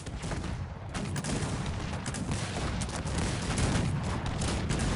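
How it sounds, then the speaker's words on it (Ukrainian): Dense, continuous volley of booming cannon fire and blasts in the strategy video game Cossacks 3, heavy and sustained throughout, with rapid overlapping impacts and no pauses. "гарно, гарно накидує гарматами"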